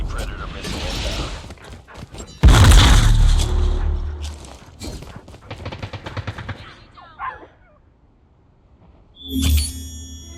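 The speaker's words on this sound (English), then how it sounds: "Hostile Predator missile inbound. Friendly Predator missile inbound." Explosions and gunfire in a Call of Duty Mobile match as a Predator missile hits: a heavy boom, scattered shots and rattling fire, with a game announcer voice heard over the action.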